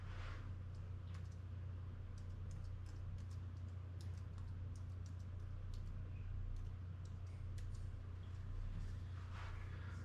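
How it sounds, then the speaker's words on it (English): Password being typed on a computer keyboard during a Mac mini's first startup, a steady run of light key clicks over a constant low hum, with no talking. "We will proceed to type in"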